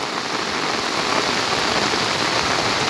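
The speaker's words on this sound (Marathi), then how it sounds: "खूप पाऊस चालू आहे खूप जोरात" Heavy rain pouring during a flood on the Ulhas river, a dense, loud, even roar of drops hitting surfaces with no pauses or voices.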